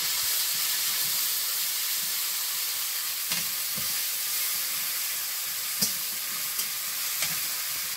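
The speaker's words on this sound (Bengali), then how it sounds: "একটু পেঁয়াজ কুচি, তরকারি তো একটু ফোড়ন দিতে হবে, একটু রসুন বাটা" Curry tempering with chopped onion and garlic paste sizzles and hisses steadily in a hot pan, broken by a few sharp clinks of a utensil stirring, with no voices.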